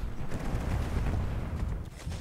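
Cannon fire in the video game Titanfall 2 rumbles as a dense, continuous roar of booming blasts and crackling gunfire, loud and sustained without voices.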